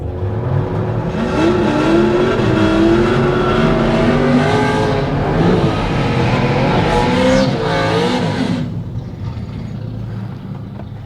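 A BMW 335i N54 engine revs hard and loud, over-revving, its pitch climbing and dropping repeatedly, then falls back to a lower rumble near the end.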